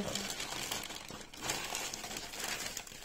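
A Shein parcel's plastic packaging being opened up close, with continuous crinkling and rustling that swells and fades over a few seconds.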